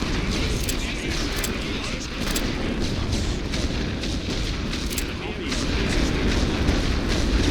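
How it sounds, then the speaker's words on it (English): A World War I machine gun nest fires in The Great War: Western Front, a dense, sustained clatter of gunfire and booming battle noise over the whole stretch, loud and continuous, with a voice talking over it. "Machine gun nest is opening fire once again."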